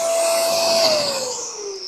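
An Excalibur II electric hair clipper cutting hair gives off a steady, close motor whine and buzz throughout, dropping slightly in pitch near the end, with no talking.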